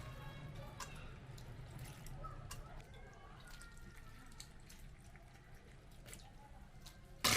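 Soaked white fungus is rinsed by hand in water for a pear soup, giving soft sloshing, dripping and squishing sounds near and quiet over a low background rumble.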